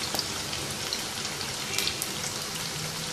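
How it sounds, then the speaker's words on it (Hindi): French fries fry in hot oil in a pan for a fried chicken recipe, a dense, even crackle of bubbling with scattered sharper pops, close and continuous, no talk. "तो जितनी देर में कोटिंग करते हैं उतनी देर में ये फ्राइज़ को फ्राई कर लेते हैं।"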